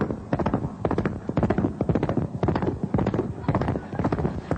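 A voice imitates a horse's hooves clip-clopping, producing a steady, rhythmic series of sharp clicking beats, close and fairly loud, with no other sounds around it.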